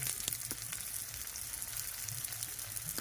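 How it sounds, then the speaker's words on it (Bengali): Masala of turmeric and Kashmiri chilli powder sizzles steadily in hot oil as it is fried down, a continuous close crackle with no talk. "মশলাটা কষা হয়ে গেছে, দেখো কত সুন্দর রং থেকে মশলা থেকে তেলে ছেড়ে দিয়েছে।"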